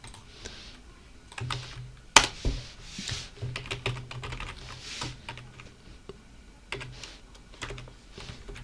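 Typing on a computer keyboard while writing a CMake list for a C++ project, irregular bursts of close, crisp key clicks with short pauses and one sharper tap, no talking.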